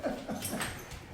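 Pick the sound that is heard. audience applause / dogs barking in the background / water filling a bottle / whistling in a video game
dogs barking in the background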